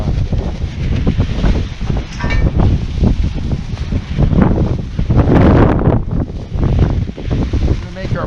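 Steady wind buffeting a microphone at a house construction site, a continuous low rumble with gusty surges throughout, loud and close, with no other clear sounds.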